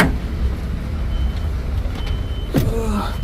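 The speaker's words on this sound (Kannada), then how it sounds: "ಇಲ್ಲಿಂದ ಗಾಡಿ ತೆಗಿತಾ ಇದ್ದಾರೆ ಅವರು" A truck pulls away on a road journey from Sathyamangalam to Bangalore, its engine giving a steady, loud, low rumble, with a brief rising whine near the end.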